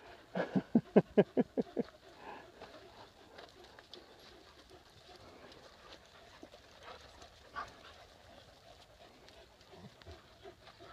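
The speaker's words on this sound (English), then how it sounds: "We got doggies that just play all by themselves." Dogs at play in a dog daycare, with a quick run of about eight sharp barks near the start, then quieter scattered yips and shuffling in a busy room.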